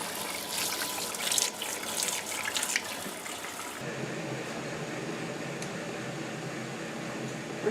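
Home-grown tomatoes are washed under a running kitchen tap, a steady hiss of water splashing in the sink that changes to a duller, lower flow partway through.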